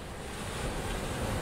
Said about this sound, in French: vous vous laissez porter par la respiration des vagues qui vont, qui viennent, paisibles